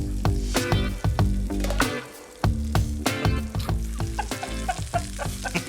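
Rump steaks sizzle and crackle loudly in a hot pan, with bursts of spattering and clinks of utensils stirring close by.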